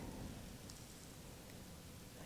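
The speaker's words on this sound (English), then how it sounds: "these clouds forming a misty rain" Steady rain with a low rumbling thunder ambience, a dense continuous wash of noise at a quiet level, with no voices.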